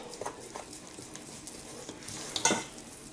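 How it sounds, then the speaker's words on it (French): Semolina soaked in hot water being stirred in a bowl into a dough mixture, with soft scraping strokes and a brief louder scrape near the end, alone without talk. "je remue hein, simplement pour bien mélanger"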